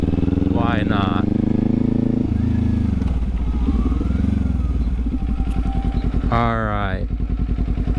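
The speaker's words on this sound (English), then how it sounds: "Reason 3 why I like this bike is because the exhaust" A Kawasaki motorcycle with an aftermarket exhaust idles close by with a steady, lumpy burble and brief revs, while someone talks over it.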